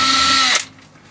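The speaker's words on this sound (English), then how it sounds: "Left-handed drilling, ambidextrous." A power drill bores into a Razor E300 electric scooter, whining steadily at close range for about half a second before winding down and stopping, with no talk.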